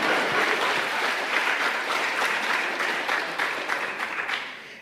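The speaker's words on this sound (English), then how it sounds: "So give me a round of applause." A round of applause from an audience at a BIPOC climate justice summit, steady and fairly close, with the clapping slowly thinning toward the end.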